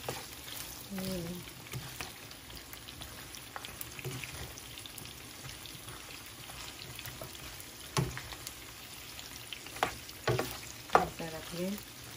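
Pigar-pigar beef sizzling and spattering in a hot pan, a steady broadband frying hiss with scattered pops and clicks of stirring, a voice speaking briefly near the start and louder crackles toward the end.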